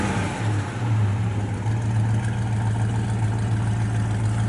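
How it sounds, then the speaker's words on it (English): A 1967 Chevrolet Chevelle SS 396 idles with a steady low exhaust rumble, even and continuous at close range, with no talking over it. "Sounds good off the exhaust."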